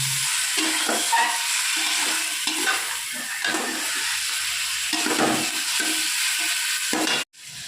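Onions and tomatoes sauté in a pan for chicken biryani, a loud continuous sizzle with rhythmic scraping of a stirring spoon, cutting off abruptly near the end.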